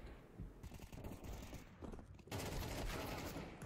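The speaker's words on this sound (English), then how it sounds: "It's AK-47, man." AK-47 rifle fire in Counter-Strike 2 comes as dense, rapid automatic bursts, a sustained rattle that intensifies near the end, faint and without speech.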